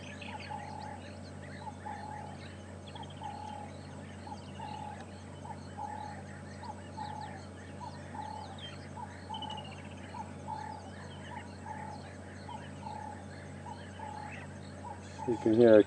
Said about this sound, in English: You can hear a Cape turtle dove calling.